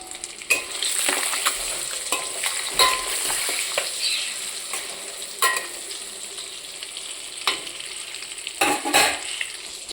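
Eggs frying in a pan for an egg curry, a close sizzling hiss broken by frequent scraping stirs and clinks of a spatula against the pan, irregular and busy throughout.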